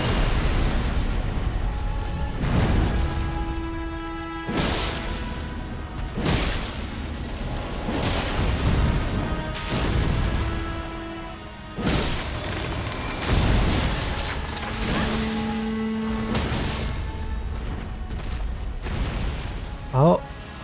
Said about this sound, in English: which will begin with an explosion, so I better try to dodge it